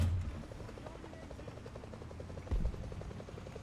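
Steady low rotor-like droning of an allied aircraft passing overhead in War Thunder, continuous and fairly loud, with a brief louder thump midway; no talking.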